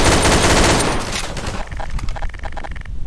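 Gunfire in the Garry's Mod video game: a dense, loud burst of rapid automatic shots that fades into a string of lighter, evenly spaced pops.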